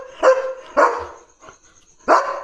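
A German Shepherd named Leo lets out three loud, close barks, two quickly paired and a third after a short pause, with no voices over them.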